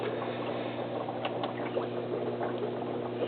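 Water pouring out of a filter return into a backyard turtle pond under a basking ramp, a steady close bubbling, splashing trickle with constant low hum, no talk.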